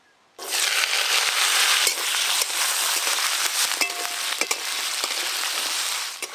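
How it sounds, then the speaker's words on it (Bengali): Cut, washed potatoes drop into hot oil and burst into a loud, close, steady sizzle that crackles on for several seconds, with a few sharp pops and utensil clicks. "আলুগুলো প্রথমে একটু ভালো করে ভেজে নিয়েছি"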